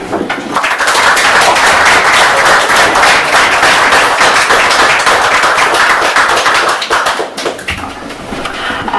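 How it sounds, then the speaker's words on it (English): An audience at a poetry reading night with open mic gives a round of applause for the guest reader, loud continuous clapping with sharp crisp hand claps up close, swelling quickly and tapering slightly toward the end. "Can we have another round of applause for our wonderful reader, Nicki?"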